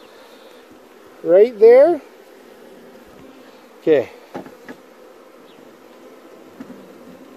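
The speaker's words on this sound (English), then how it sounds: "so you can see that baby bee being born" Honeybees buzz close by at a hive where a young bee is emerging, with two loud whining buzz bursts early, a shorter buzz mid-clip and a few faint ticks over a low steady hum; a person speaks briefly.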